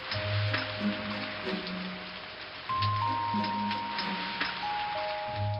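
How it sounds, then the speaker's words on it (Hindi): Rain begins falling outside during the monsoon, a steady patter of drops on surfaces mixed with sustained tonal background sounds, moderately loud and continuous with no talking. "इतने में बाहर बारिश शुरू हुई।"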